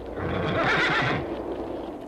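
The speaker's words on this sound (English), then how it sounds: "George Washington's horse isn't too happy, so he's going to make a noise" An audio-animatronic horse at Epcot's American Adventure whinnies once, a rising and falling neigh that swells and fades over about two seconds.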